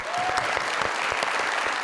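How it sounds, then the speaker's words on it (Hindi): An audience applauds the winner, Ayesha, of a timed challenge on a television talk show, a dense steady wash of many clapping hands sustained throughout. "इनके लिए बहुत सारी तालियां।"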